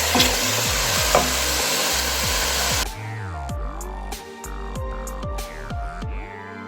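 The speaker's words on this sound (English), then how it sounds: "Make sure to put the tuna and make sure to mix it after you put the tuna." Tuna is mixed in a frying pan for pasta alfredo. A loud, hissing fry comes first, then it drops away to quieter scraping and tapping strokes of a utensil against the pan, spaced irregularly.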